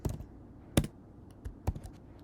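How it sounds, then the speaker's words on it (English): Someone types a prompt on a computer keyboard, with quick irregular key taps and a couple of sharper strikes, close and alone. "So this is what I'm typing."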